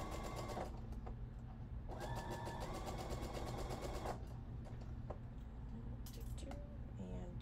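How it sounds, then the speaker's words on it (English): Sewing machine stitching the crotch seam of pants made from a scarf, fabric placed right sides together; steady motor runs in bursts with a pause midway, loud and close. "I am sewing this right sides together, or at least what we've defined as right sides, by putting the crotch line in."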